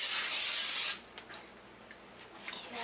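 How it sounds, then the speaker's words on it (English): Pam Original Non-Stick Cooking Spray hisses onto a pan in a single steady spray burst just under a second long, close and loud, followed by quieter small clicks and handling noises. "And then we are going to use Pam Original Non-Stick Cooking Spray. We are going to spray the pan."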